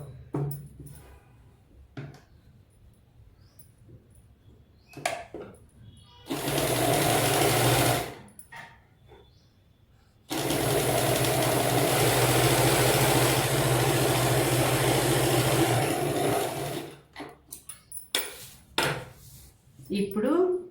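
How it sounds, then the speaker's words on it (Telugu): A sewing machine stitches a padded princess-cut blouse in two sustained runs of steady mechanical whirring, about two and eight seconds long, broken by short pauses and small handling clicks. "ఇది ఇక్కడ కుట్టు వేసుకుంటూ వచ్చేయాలండి."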